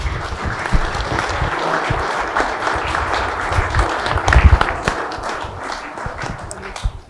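An audience breaks into dense, loud applause as a president arrives at a public meeting on housing, sustained clapping filling the room for several seconds with some low thumps mixed in.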